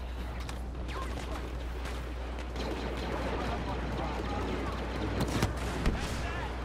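Rapid blaster fire and mechanical battle noise from Boba Fett in the Star Wars Battlefront video game, a dense, continuous barrage with sharper shots standing out near the end.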